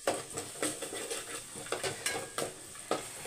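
A spoon scrapes through a ginger-garlic curry mixture in a pan in regular, quiet strokes, with faint sizzling between the scrapes.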